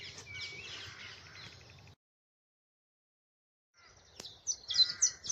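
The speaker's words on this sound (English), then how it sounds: "Green woodpecker" A green woodpecker calls at RSPB Rainham Marshes in the early morning, with a burst of loud, near calls, a short silence, then another rising run of calls.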